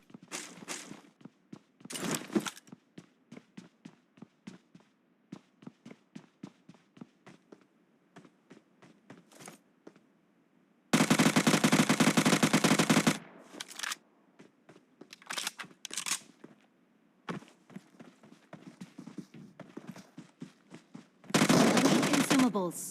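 Automatic gun in PUBG on an Infinix Note 12 firing in two sustained loud bursts, with scattered shorter shots, footsteps and taps between them, while someone talks.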